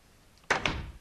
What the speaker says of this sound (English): Opens the door.